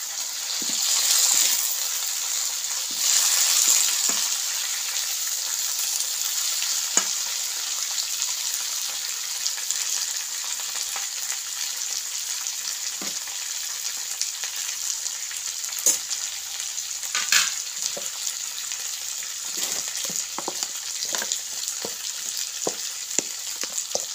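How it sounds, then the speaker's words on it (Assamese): Food fries in a pan with a constant hiss and sizzle, broken by scattered sharp clicks and taps of stirring, loudest near the start and settling into a steady, close sizzle. "এয়া দেখিছেনে, মই এইদৰে অলপ সময়ৰ কাৰণে ভাজিলোঁ।"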